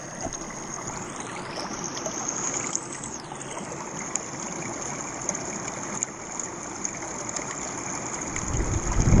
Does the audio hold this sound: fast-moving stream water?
yes